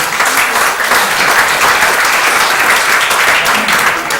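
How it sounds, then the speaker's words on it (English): Loud, dense round of applause from an audience for the day's presenters at a tech meetup, continuous and steady with no voices. "So, round of applause for everybody who presented today."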